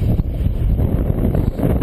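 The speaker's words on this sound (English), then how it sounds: "It's getting windy out here." Gusty wind buffets the microphone outdoors on a fishing boat, a loud, steady low roar with rustling surges and no voices.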